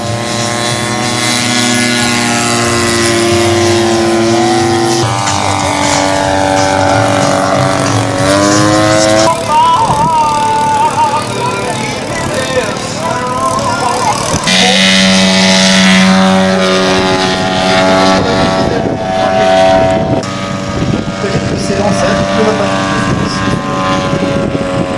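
A propeller aircraft roars loudly and continuously as it makes a slow, low pass overhead at an air show in Brest, its engine pitch shifting as it moves.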